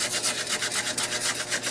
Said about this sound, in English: I got this is a little strip of 220 grit sandpaper.